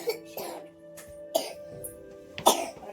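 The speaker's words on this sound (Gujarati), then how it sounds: "થોડી બહુ ઉધરસ ખાય છે." A feverish child coughs in a home, three short harsh bursts spaced about a second apart, close and fairly loud, with quiet background between them.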